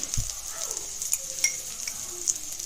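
Garlic chutney frying in a pan for dum idli, a steady close sizzle with a few light stirring clicks and scrapes, no talking.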